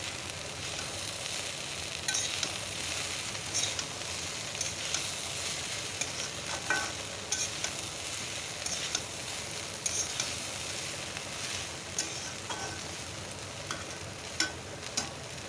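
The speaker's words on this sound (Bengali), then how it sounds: "ওপর দিয়ে নাড়াচাড়া করে নেবো বেশ ভালো করে ভাজবো" Food sizzling steadily in a pan while Kashmiri chili powder is stirred in, a continuous close frying hiss broken by scattered scraping taps of the spatula throughout.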